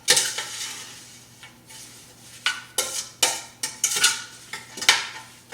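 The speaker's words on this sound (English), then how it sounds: "We are going to keep stirring this until it comes to a boil." A stainless steel spoon stirs rhubarb in a pot, scraping and clinking against the metal in irregular strokes, close and fairly loud, with a soft faint sizzle underneath and no talking.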